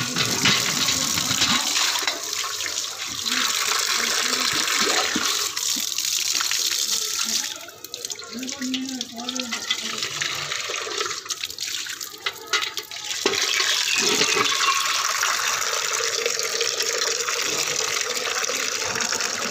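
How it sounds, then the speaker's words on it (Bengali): Water runs from a tap into a container, a loud steady gush that dips and shifts midway as the filling changes, then returns to a full rush, with no talking. "তাহলে চলুন জলটা ভরে নিয়ে আসি"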